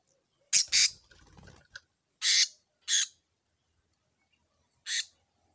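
Several harsh, shrill squawks from a green Philippine hanging parrot ring out close by, spaced irregularly with quiet gaps between them.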